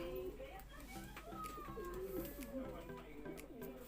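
Pigeons coo softly in a loft among breeding hens, several low warbling calls repeating over faint background noise and a quiet voice.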